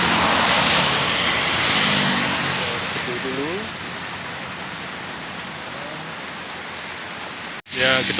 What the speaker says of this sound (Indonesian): Sekarang karena hujan, saya harus berteduh.